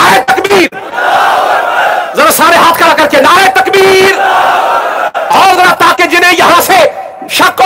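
Large crowd chanting the Islamic slogan Nara-e-Takbeer in loud, repeated collective shouts at a pre-iftar Ramadan gathering, answering a lead voice urging raised hands, with bursts and brief pauses between responses.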